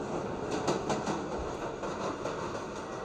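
A train in the Roblox game Jailbreak rolls along with a steady rumble and rhythmic clickety-clack of wheels, a continuous moderate wash of sound with no talk.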